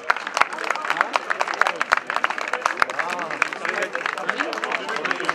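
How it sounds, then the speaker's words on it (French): A crowd at a stage of the Essor breton cycling race claps in lively applause, with dense sharp hand claps and a murmur of voices mixed in. "Ça mérite un tonnerre d'applaudissements"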